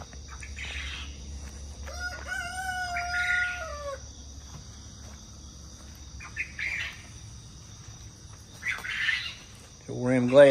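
On a farm in the early morning, a rooster crows loudly nearby, followed by scattered hen clucks and squawks over a low steady hum, with a voice briefly talking near the end.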